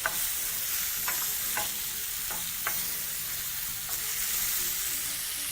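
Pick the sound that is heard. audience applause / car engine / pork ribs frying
pork ribs frying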